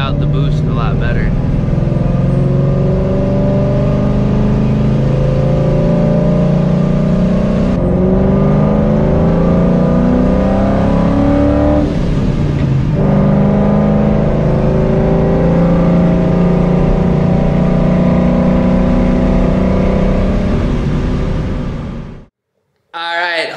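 A supercharged 2V Ford Mustang GT with over 450 wheel horsepower pulls hard in second gear, its engine note climbing steadily in a loud, continuous roar, with a brief dip mid-pull before the revs rise again and cut off near the end.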